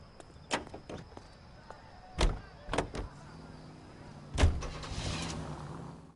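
In an L.A. Noire detective scene, a car door slams with a few sharp thumps and clunks, followed by a car engine rising into a low, steady drive hum near the end.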